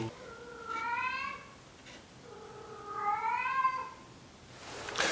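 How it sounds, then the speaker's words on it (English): Two drawn-out cat meows, rising then falling, spaced a couple of seconds apart over a quiet background, ending in a brief rustle. "Do you hear the cat? That's just so annoying."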